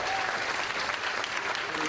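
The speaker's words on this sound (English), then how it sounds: "Let's give a round of applause" Audience applause fills a marketing seminar room, a dense, steady wash of clapping that holds at an even level for the whole stretch without letting up.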